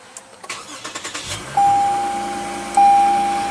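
A Lexus GS F Sport with a 3.5 liter V6 starts by push button: a few quick starter clicks, then the engine catches into a steady close idle, with two long electronic chimes sounding over it.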